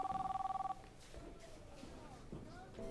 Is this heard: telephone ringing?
yes